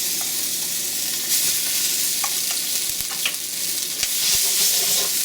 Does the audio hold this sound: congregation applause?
no